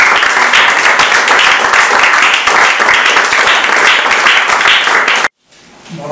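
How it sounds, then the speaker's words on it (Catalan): An audience at a poetry seminar gives a loud, dense, sustained round of applause for a poet, which cuts off abruptly near the end and leaves quiet room tone. "un fort aplaudiment per Josep Maria Saladellà"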